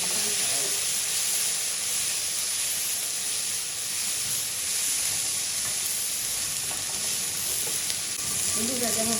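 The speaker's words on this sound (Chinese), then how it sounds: "随后把西红柿倒进去，" Tomatoes tipped into a hot pan with scallion, ginger and Sichuan pepper set off a loud, dense, steady sizzle and hiss that runs without a break, close up, with no talk over it.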